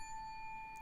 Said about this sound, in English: That is incredibly accurate to hotel bell.